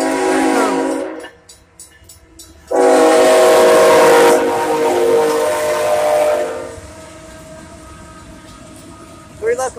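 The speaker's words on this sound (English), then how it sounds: "We got a train coming, y'all. I hear him." A CSX freight train led by three locomotives approaches, its horn blowing in short bursts before a long loud blast, then the rumbling passage fades while people talk nearby.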